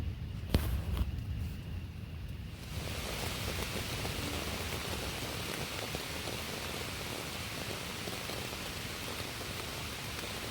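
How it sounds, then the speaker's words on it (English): Rain falls steadily on a campsite at night in stormy wilderness, a constant close patter after a brief rustle at the start, with no voices. "let the rain put me to sleep tonight."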